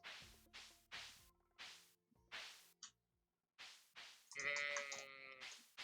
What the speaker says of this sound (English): I'm going to pet the sheep.